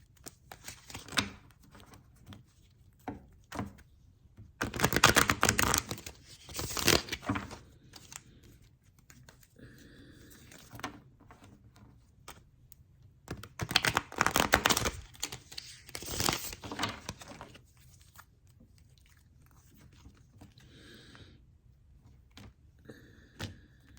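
Bursts of crisp, rapid tarot card riffling and flicking come in several clusters with quiet gaps between, close and fairly soft.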